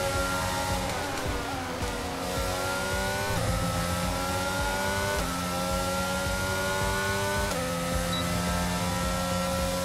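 Race car engine in F1 22 holding a steady high-revving drone with stepped gear changes, continuous and loud throughout with no talk.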